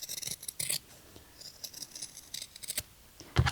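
Scissors snip through fabric for layered applique pieces, a series of close, crisp cuts and slides in irregular bursts, with a louder snip near the end.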